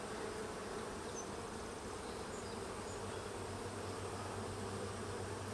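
Honey bees droning steadily at a busy hive full of larvae and eggs, a dense, continuous hum holding at even loudness throughout with no voices.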